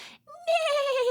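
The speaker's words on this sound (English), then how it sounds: "That's right, it's a horse." One short, high, falling whinny like a horse's neigh, heard close and alone after a brief silence.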